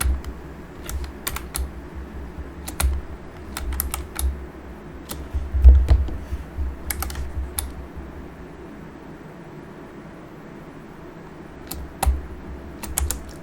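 Someone types on a computer keyboard in bursts of quick, close clicks separated by pauses, with a low fan-like hum underneath while a flight simulator's controls are set up.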